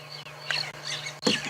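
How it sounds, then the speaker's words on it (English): Birds sing during a sunrise safari near an elephant: a few short, bright chirping bursts spaced over a moment against a quiet outdoor background, with no talking. "listen to the birds"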